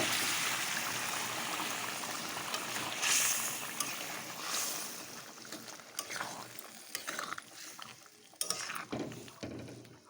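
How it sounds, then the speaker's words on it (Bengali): Cooked mung dal poured into frying spices in a pan, a close wet gurgling hiss that settles into quieter bubbling with a few sharp spoon or pot clanks toward the end, no talking. "চলো এখন আমি মশলা কষানোর মধ্যে আমি ডালটা দিয়ে দিই"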